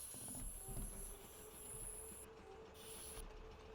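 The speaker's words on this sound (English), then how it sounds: "Another train coming in over there." A train pulls in on a South London railway line, a faint steady rumble with wheel hiss and some squeal, heard from inside a moving train cab.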